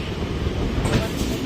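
A train pulls into the platform at Sealdah station with a steady, broad rumble and rattling, running the whole time beneath faint background voices.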